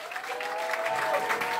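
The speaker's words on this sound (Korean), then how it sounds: "여러분들의 힘찬 함성과 박수로 발표식을 시작하겠습니다" An audience at a political party's launch ceremony claps and cheers in a brief, dense burst of steady applause.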